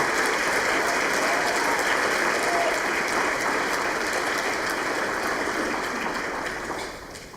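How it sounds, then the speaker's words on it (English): An awards ceremony audience gives a loud, sustained round of applause, thick continuous clapping from a large room that eases off slightly in the final moments. "How about a round of applause for her?"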